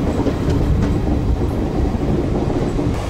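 A passenger train in southern India rolling along the rails, heard from inside the carriage as a loud continuous rumble with rattling and faint rhythmic clatter throughout.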